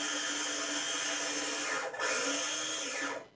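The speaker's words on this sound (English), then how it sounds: "A pinch of salt into 1 cup of the oats, and just grind these up until they're very fine." A blender grinds a cup of oats with a pinch of salt into fine flour, a loud steady whirring drone with a brief dip partway through, alone with no talking.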